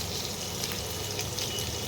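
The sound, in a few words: paneer frying in pan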